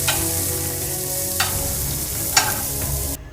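Cauliflower sizzles and fries in a pan, a steady hiss broken by a couple of sharp scraping stirs, close and loud, before cutting off abruptly.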